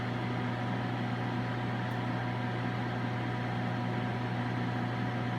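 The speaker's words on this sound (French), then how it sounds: "on entend que les micro-ondes font leur travail, on entend le pétillement des ingrédients qui sont chauffés à l'intérieur" An Electrolux panini grill microwave heating a sandwich, a steady close electrical hum with a constant low drone and faint crackling from the heating ingredients throughout.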